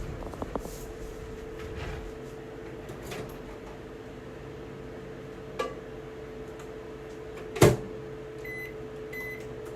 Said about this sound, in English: I'm going to just put it in the microwave and get this good and hot